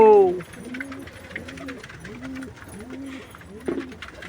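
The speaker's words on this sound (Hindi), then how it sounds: "नए कबूतर हमारे इसमें बहुत सारे नए कबूतर हैं।" Pigeons coo in a loose, repeating rhythm of soft, throaty rolls at close range, about five calls in a row, after a brief louder opening burst.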